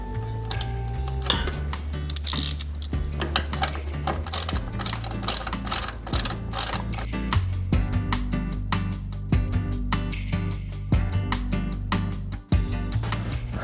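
A ratchet wrench tightens engine bolts during a radiator and serpentine belt job in an engine rebuild, giving steady runs of close, crisp clicks that continue almost without pause.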